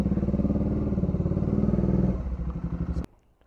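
A Bajaj Dominar 400 motorcycle engine revs close up in rapid pulsing throbs for about two seconds, its tone dropping as it winds down, then cuts off abruptly into near silence.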